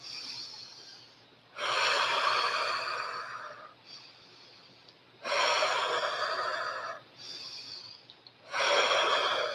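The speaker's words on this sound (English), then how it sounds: "you breathe in through your nose and out through your mouth" Deep, forceful breaths in through the nose and out through the mouth in the Wim Hof method, several long loud gasping inhalations and exhalations separated by quieter pauses, close and with no talking.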